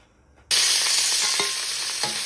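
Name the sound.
shallots, garlic and coconut sautéing in sesame oil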